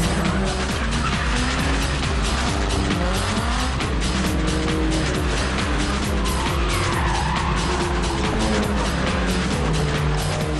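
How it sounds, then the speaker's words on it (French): Banger cars race on the Warneton speedway track, a loud, continuous roar of engines with skidding tires and repeated impacts close by, and no talk heard. "les bangers sont en piste"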